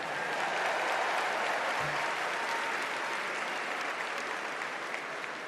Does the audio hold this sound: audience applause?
yes